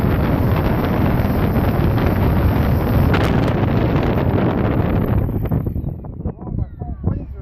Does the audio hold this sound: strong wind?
yes